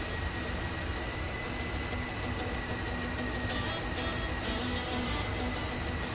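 An F-4E Phantom II jet taxiing in the DCS flight simulator gives a constant loud engine roar and whine, steady and unbroken from start to finish.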